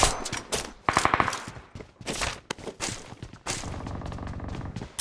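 Gunfire in the mobile battle royale game BGMI on the Livik map, rapid bursts and single shots at varying distances, loud and sharp, with brief pauses between volleys and no talk.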